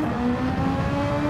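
Race car in Gran Turismo 7 on the Fuji circuit accelerating and shifting gears, a steady loud engine drone with shifting harmonic tones, continuous and close with no talk.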